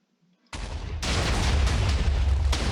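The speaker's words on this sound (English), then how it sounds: "we're exploding a big block of TNT" A big block of TNT detonates with a sudden loud blast, then a sustained roaring rumble of debris and echo that swells again about half a second later and carries on to the end, with no talk.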